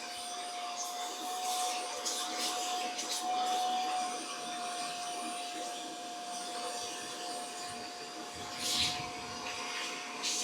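A suction vacuum whirs steadily while cleaning dirt and sweat from inside a helmet at a repair shop, a fairly quiet continuous drone with a faint high whine and small scraping bursts.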